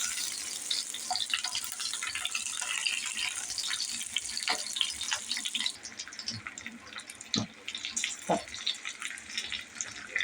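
Stuffed bell peppers frying in a pan, with a steady high sizzle that drops off partway through, while scattered soft clicks and knocks sound close by.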